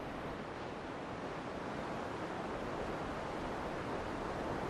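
Sea waves wash steadily against the shore at a coastal archaeological site, a continuous broad surf roar with some wind, no voices present.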